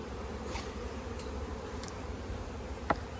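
Honey bees buzz around an open hive during an inspection of bee colonies, a low continuous drone with a few brief closer passes and a small tick near the end.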